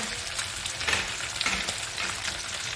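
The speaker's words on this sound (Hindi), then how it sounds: "अच्छा जी, मछली तो हो रही है फ्राई" Fish pieces fry in oil in a pan, sizzling loudly and steadily with crackles and spatters, with no talk over them.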